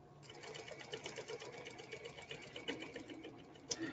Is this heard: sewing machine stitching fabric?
yes